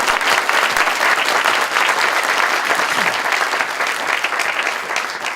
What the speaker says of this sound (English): deserves a huge round of applause for sticking with it